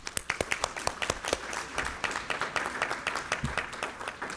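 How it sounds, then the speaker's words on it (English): Audience applause at a Fort Worth ISD school board meeting, a small room's worth of distinct, fairly sparse hand claps carrying on steadily for several seconds with no talk over it. "Let's give them one more round of applause."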